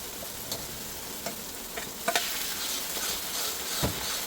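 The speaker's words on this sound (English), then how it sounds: "Fry off your paste for about a minute" Curry paste with whole green chilli and onion-cashew paste frying in a pan, a steady close sizzle with occasional scraping stirs and small ticks, no voices.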